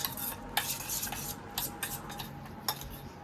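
A spoon scrapes and knocks against a bowl while homemade pizza chutney is mixed, a handful of quick clinks and stirring scrapes at an irregular pace over a hissing background, close by, with no voices.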